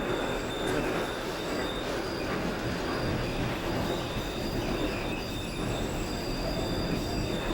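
A D train in the openBVE train simulator game rumbles along the rails with a continuous, loud roar and high wheel squeal, steady throughout with no talk.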